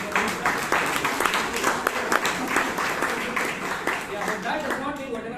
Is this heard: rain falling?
no